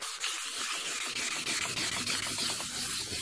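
Enamel vintage sign being hand sanded with wet 1200 grit sandpaper and soapy hand wash, a close, rhythmic rasping rub in quick repeated back-and-forth strokes, alone without speech.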